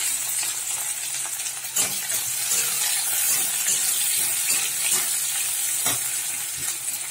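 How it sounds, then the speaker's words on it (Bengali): Chopped onion with panch phoron and a dried red chilli fries in hot oil in a wok, sizzling steadily up close with faint stirring clicks and no talking. "পেঁয়াজটা লাল করে ভেজে নেব।"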